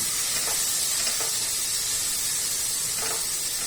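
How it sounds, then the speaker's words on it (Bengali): Spices with ginger paste sizzle in a pan, a steady close hiss with a few faint stirring scrapes and no voices. "আদা বাটা দিয়ে তারপরে মশলাকে একটু কষিয়ে নিচ্ছি"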